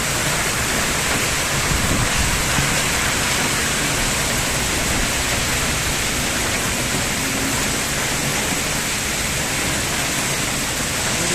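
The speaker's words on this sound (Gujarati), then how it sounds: "વરસાદ તો વધતો જાય હોય એવું લાગે છે." Heavy, steady rain pours down continuously in a dense, even wash with no break, loud and close, while a small water tank for cattle fills up.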